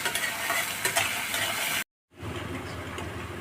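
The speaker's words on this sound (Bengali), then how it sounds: "একটু লাল লাল করে ভাজা হবে" Chopped onions frying in oil with foaming melted sugar for a mutton dish, a steady hiss and scrape of stirring, broken by a brief silent gap before the sizzle resumes.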